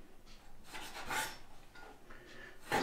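A knife cuts through a head of chicory with a few crisp, scraping strokes of uneven length, close by and fairly quiet, ending on a sharper crunch. No voices.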